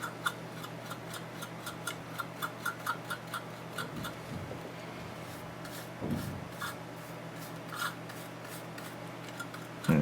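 Soft scratchy brushing of black weathering powder onto an OO scale Hornby Class 58 model locomotive, faint rhythmic ticking strokes over a quiet hum, close up.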